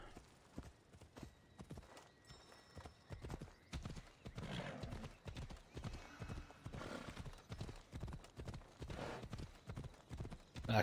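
Horse hooves clip-clop in a steady rhythmic gallop in the Assassin's Creed Odyssey video game, with a few brief whinnies and a voice heard now and then.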